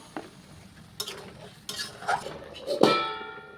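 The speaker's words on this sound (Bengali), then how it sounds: "ঢাকা খুলে একটু নাড়াচাড়া করে ঝোলের জন্য জল দিয়ে দিলাম" Dried fish curry stirred in a pot, a few separate scraping and clinking strokes of a utensil against the pot with a faint sizzle between them, close and fairly quiet.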